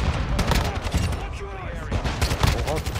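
Rapid bursts of Desert Eagle pistol fire in the video game Modern Warfare 2, loud sharp shots repeating over about three seconds with heavy in-game noise and possible voice chat underneath.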